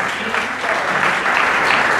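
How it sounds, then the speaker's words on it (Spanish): A crowd applauds steadily, a dense wash of clapping that stays loud and even throughout. "Y el primer fuerte aplauso."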